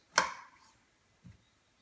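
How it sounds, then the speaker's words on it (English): A knife cuts down through a mushroom laid flat on a chopping board, giving two crisp taps about a second apart, the first louder and sharper, with nothing else heard. "put the mushroom flat on the chopping board. 1 cut. 2 cuts."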